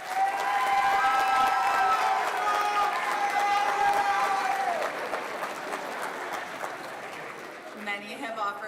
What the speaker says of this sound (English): I will now ask our graduates to give a round of applause to their parents, guardians, families, and support groups.